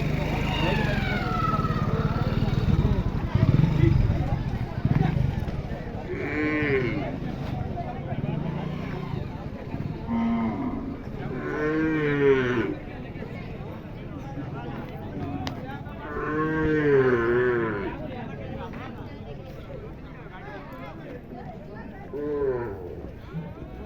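Bulls mooing at a bullock and horse cart race ground, several drawn-out lowing calls spaced apart, mid-distance over crowd noise and people talking.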